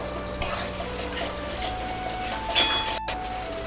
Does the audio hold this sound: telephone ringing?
no